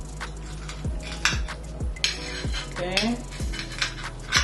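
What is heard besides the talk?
breaking into a crispy tofu grilled cheese sandwich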